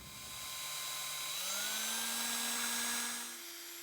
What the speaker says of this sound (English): what I'm going to use to clean it is a little, just a bristle brush on the end of a drill